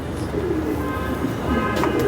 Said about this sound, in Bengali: লংয়ের একটা কবুতর লংয়ের একটা বাচ্চা খুব ভালো একটা বাচ্চা দেখতেছেন